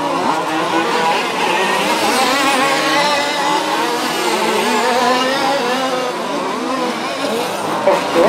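2WD off-road RC race cars of the OR6 class lap the track at a German championship, their motors producing a loud, continuous buzzing whine with shifting pitch as the cars accelerate and corner.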